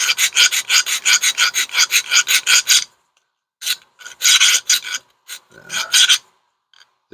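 A rasp roughing out wood and throwing off shavings, with loud rapid rhythmic strokes in a fast burst, then a pause and several more spaced strokes, close up with no talk.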